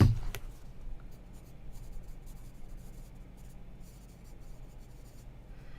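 Pen or marker writing on paper, a steady scratchy scribble close by that runs continuously with a brief sharper tap at the start, no talking over it.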